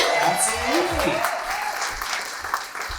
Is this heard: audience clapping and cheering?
yes